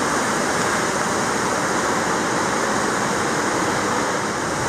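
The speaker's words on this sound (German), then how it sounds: "Wir kommen hier an einen wunderschönen, riesigen Wasserfall, der von hoch oben runterkommt." A huge waterfall plunging from high above roars in a dense, constant, loud wash of falling water with no break.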